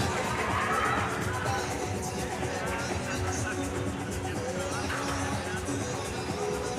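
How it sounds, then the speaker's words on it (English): Crowd at a National Squash League team match, Sono Sharks against Seattle Freeze, making a steady roar of cheering and hubbub that runs under a commentator's voice throughout. "You can hear the crowd on their end."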